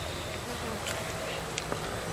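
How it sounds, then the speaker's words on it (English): A steady, dense drone of bees inside a hive, with many insects buzzing continuously at close range and a few faint clicks on top, no voices. "bees in a hive"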